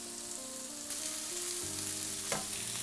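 Mushrooms hit hot oil in a pan, and a sudden broad sizzle jumps up and holds steady, with a brief scrape of stirring near the end.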